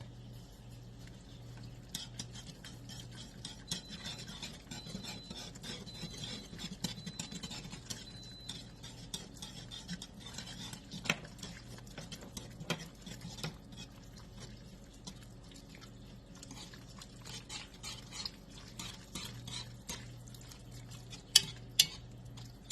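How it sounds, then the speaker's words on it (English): A whisk scrapes and clinks through cream of rice soup in a pot, a steady stream of small taps and swishes, fairly quiet, alone with a low kitchen hum beneath. "Sometimes I do use a whisk, which I think I'm going to go ahead and do"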